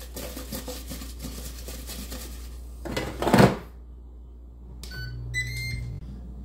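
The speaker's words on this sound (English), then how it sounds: "Every minute or so now you can give them a little shake." Potato wedges are shaken in an air fryer basket, giving a short rattling, scraping jostle over a steady fan hum, followed by quieter clicks and handling noises before the fan settles back in.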